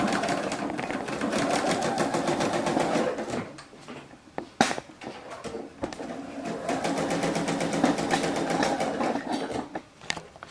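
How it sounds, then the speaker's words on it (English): Quilt pieces for a half log cabin block run through a sewing machine in rapid, even stitching bursts, a close mechanical whirr that pauses briefly midway with small clicks before resuming. "So let's get these sewn. I'm going to turn so that the corners match. And then I'll sew along this edge."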